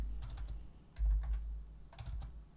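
Computer keyboard typing in short clusters of quick clicks separated by pauses, close and moderately quiet, with no talk.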